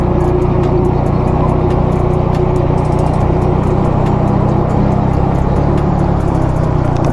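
A vehicle overtakes on a mountain road in the Neelum Valley: a loud, continuous engine drone and road rumble holds steady throughout, close and unbroken, with no talking.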